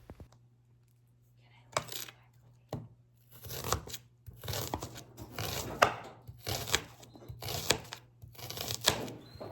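A knife chops a white onion into large chunks on a cutting board, starting with a couple of isolated thuds and then settling into a run of rapid, close, crisp chopping bursts; no talking.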